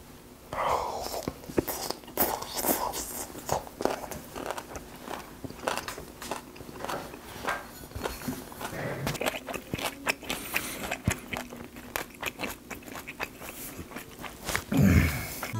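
Close chewing and crunching of fermented skate eaten with aged kimchi, the tough cartilage giving irregular crunchy bites and wet mouth sounds, with faint breathy sounds between chews.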